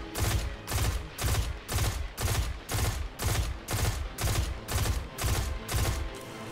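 Rapid weapon fire in the video game Destiny 2, a burst of about eleven evenly spaced, punchy shots over several seconds with a steady, driving rhythm and no voices.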